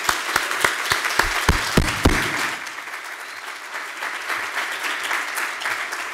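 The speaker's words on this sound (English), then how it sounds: "That's a big applause." An audience at a nuclear power debate applauds, opening with distinct sharp claps that quickly thicken into a sustained, full round of applause, which slowly eases toward the end.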